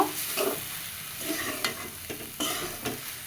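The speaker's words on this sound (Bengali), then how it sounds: "এবার ভাতগুলো ভালো মতো মিশিয়ে নিব" Cooked rice is stirred into a potato and pointed gourd curry in a pan, with a soft continuous sizzle broken by repeated scraping and knocking strokes of a spoon.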